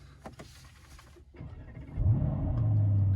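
An Aston Martin DBX707 SUV fires up in loud-start mode: after a few faint clicks and a whir, the engine catches with a deep bark and a quick rev that settles into a heavy, rumbling idle close by.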